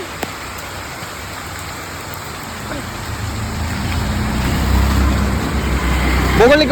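Rain falls steadily outdoors, the hiss growing heavier and louder over a few seconds, with a low rumble underneath and a voice briefly present.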